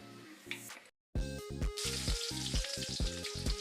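Chopped onions hit hot oil in a pan after fish has been fried in it, bursting into a loud, steady sizzle after a brief silence, with rhythmic scraping or stirring pulses running through the frying.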